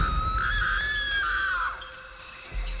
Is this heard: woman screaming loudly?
yes